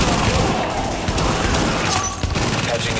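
Sustained gunfire in The Division, a dense, loud fusillade of shots and bursts running continuously with game sound effects layered over it.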